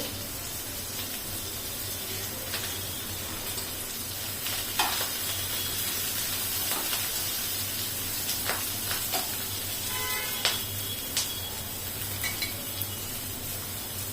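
Curry leaves crackling in hot oil for an onion chutney, a continuous soft hiss with scattered sharp pops and spits, alone and fairly faint.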